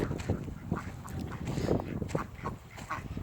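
Two ducks kept for hatching eggs quack close by in a repeated, busy run of calls.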